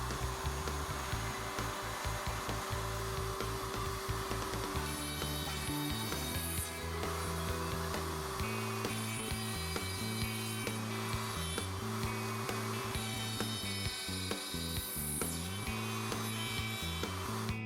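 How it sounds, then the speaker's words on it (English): A router on a router table cuts socket boards in a Leigh RTJ400 dovetail jig, giving a loud, continuous high whine with shifting low tones as the wood is routed, with no talking. "The frame is moved to the number 2 position to route the socket boards."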